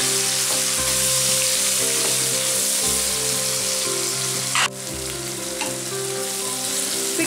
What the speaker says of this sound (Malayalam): ടൊമാറ്റോയും കൂടി നന്നായിട്ടൊന്ന് വഴന്ന് വരണം.